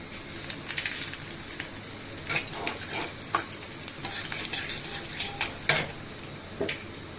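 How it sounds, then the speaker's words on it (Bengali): Whole cumin, a bay leaf and a dried red chili tempering in hot oil, a soft continuous sizzle close by with scattered clinks and scrapes of a utensil against the pan. "এখানে নিচে গোটা জিরে, একটা তেজপাতা আর একটা শুকনো লঙ্কা ফোড়নে দিয়ে দেবো।"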